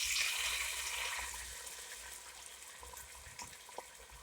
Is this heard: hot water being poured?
yes